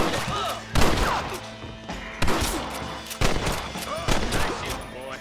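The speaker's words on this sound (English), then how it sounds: "Nice shooting, boy." Gunshots in the Western game Red Dead Redemption: four loud, distinct shots spaced about a second apart, each ringing out over a dull background.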